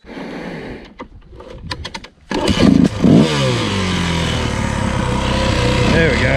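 A Yamaha WR400 dirt bike is kicked over, catches on the second kick and roars to life, its engine revving loudly up close, then settling into a steady, strong idle.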